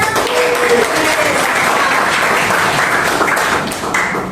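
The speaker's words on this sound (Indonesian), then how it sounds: "Tepuk tangan dulu buat semua." A group in a high school class claps steadily and enthusiastically, a dense burst of applause from a small crowd that holds for several seconds, then starts to thin.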